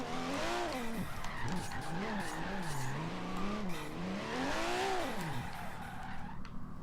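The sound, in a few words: Toyota Supra drifting with tire squeal in Forza Horizon 3 video game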